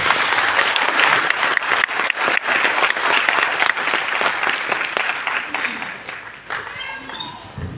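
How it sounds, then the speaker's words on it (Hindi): Loud, sustained applause from an audience of distributors at a direct-selling marketing event, dense clapping filling the whole stretch and easing slightly toward the end, with a voice faintly audible beneath it. "सभी डिस्ट्रीब्यूटर अपने लिए जोरदार ताली बजा सकते हैं।"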